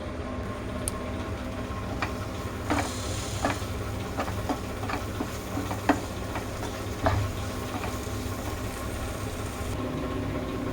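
Ripe jackfruit mixture is stirred and roasted in a pan. A steady low frying hiss runs throughout, broken by scattered light scrapes and taps of the spoon against the pan.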